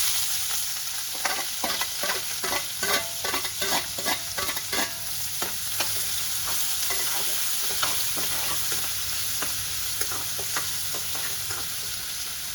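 Sliced onion sautéing in a pan for a spinach stir-fry, with a steady close sizzle and quick rhythmic stirring scrapes clustered early, then sparser strokes, and no talking.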